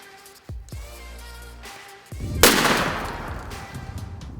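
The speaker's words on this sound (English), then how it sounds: "So today I'm gonna be shooting Longbeard XR." A turkey shotgun firing Winchester Long Beard XR loads outdoors in a driveway: one loud, sharp blast followed by a decaying echoing tail, preceded by quieter handling knocks.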